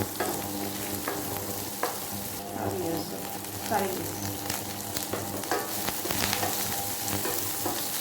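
Spices and onions frying until golden brown for mutton dalcha, a continuous crackling sizzle with scattered stirring clicks and scrapes throughout.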